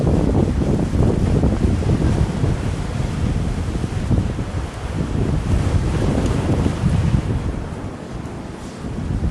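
Strong wind buffeting the microphone at a North Devon beach near Ilfracombe, a loud, continuous roar mixed with the wash of surf, with no voices.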